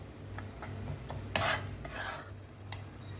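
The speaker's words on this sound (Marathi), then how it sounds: "रवा तुपात चांगला भाजून घ्यायचा" Semolina roasting in ghee is stirred in a pan, with soft scraping strokes, a louder clatter of the spoon near the middle and a low sizzle underneath. The sound is close and moderate, with no talking.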